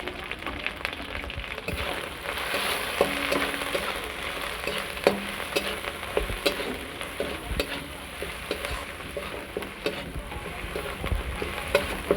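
Spices with turmeric and chili paste fry in a pan, a continuous crackling sizzle with soft stirring scrapes and occasional sharper pops, close and fairly quiet.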